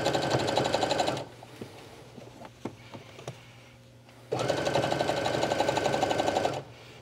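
A sewing machine stitches down a yoga pants seam in two loud, steady bursts of rapid needle chatter, separated by a quiet pause of small clicks and handling noises.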